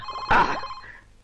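A telephone rings with a single brief, close tone burst that fades quickly, with a faint lingering hum.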